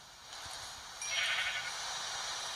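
A black sheep in Minecraft gives a single bleat partway through, clear over steady game background noise, with no talk.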